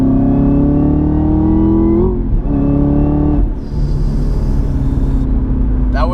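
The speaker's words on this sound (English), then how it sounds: "I'm in 3rd gear and I'm going to give it a little bit of a blast." A supercharged Camaro ZL1 V8 accelerates hard in third gear on a highway, its loud engine note rising in pitch, dipping briefly at a shift, then climbing again close up inside the car.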